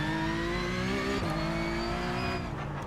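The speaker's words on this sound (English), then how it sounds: "It does sound like a Porsche." Porsche Cup race car in the iRacing game, its engine holding a loud, close, steady high-pitched rev with a brief dip and pitch change around the middle.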